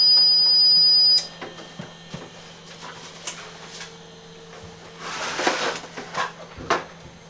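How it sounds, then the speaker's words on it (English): A Tripp Lite 1500VA UPS backup power supply gives off a steady, loud high-pitched tone for about a second before it cuts off, followed by faint handling and rustling noises over a low electrical hum. "I'm kind of surprised it's actually beeping."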